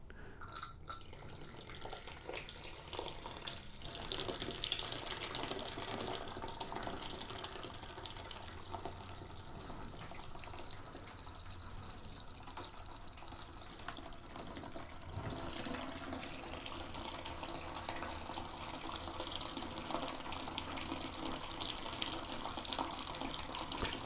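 Liquid steadily draining from a peach whiskey grain mash into a fermenter during a batch sparge, a continuous close gushing and splashing flow with no pauses.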